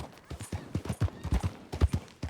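Morgan horse hooves clop steadily on the ground in the Red Dead Redemption 2 video game, a close, brisk and rhythmic series of thudding hoof beats with no talking.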